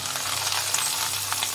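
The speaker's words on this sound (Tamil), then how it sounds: "இந்த ப்ரெட்டை வந்து ரோஸ்ட் பண்ணிக்கலாம்." Bread pieces frying in hot oil for vegetable biryani, a close, steady hissing sizzle throughout the short stretch with no talk.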